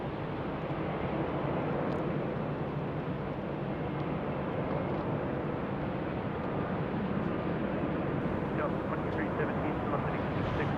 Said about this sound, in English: That's a A321neo inbound from San Diego